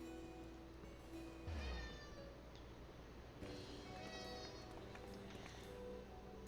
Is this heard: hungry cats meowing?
yes